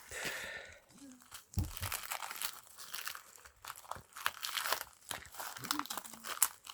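A received package being unwrapped up close, with crinkling plastic and paper, tearing and rustling bursts mixed with a person talking.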